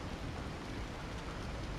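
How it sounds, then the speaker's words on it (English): Torrential monsoon rain with thunder in Resident Evil 4, a dense, loud, unbroken roar of downpour filling the whole moment with no voices. "Torrential monsoon scared the shit out of me."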